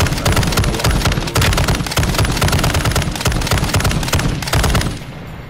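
Rapid bursts of automatic gunfire in the shooter game Warzone 2.0 crackle loud and close in dense, continuous volleys, then drop off sharply near the end.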